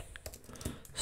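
Light typing on a computer keyboard, a short burst of soft, quick key clicks close to the mic with no talking.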